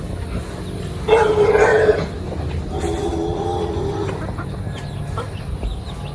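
Mixed native and heritage farm chickens cluck in a loud burst lasting under a second, followed by softer clucking over a steady low rumble, with no talk.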